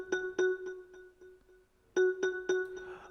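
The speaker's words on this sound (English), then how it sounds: "And then the next thingy that I had to put in was vibraphone" Vibraphone notes drenched in reverb and delay, programmed in FL Studio for a soulful amapiano track, ring out in two clusters of bright mallet strikes with echoing repeats that fade between them, played alone.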